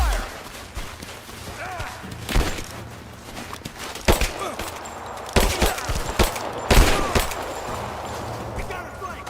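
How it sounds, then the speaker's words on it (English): Gunfire in the video game Rise of the Tomb Raider rings out in scattered loud bursts and single sharp shots over a low rumbling backdrop, with faint in-game voices. "I'm under fire!"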